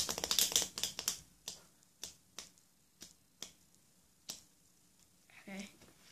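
A burst of rapid card flutter from a riffle shuffle, then a series of sharp, separate snaps spaced about half a second apart, close and crisp.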